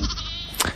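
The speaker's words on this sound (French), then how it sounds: "Ah, les fameux moutons, merci Pierre." A sheep bleat played as a radio sound effect, one short wavering call lasting under a second, clear and close with no talk over it.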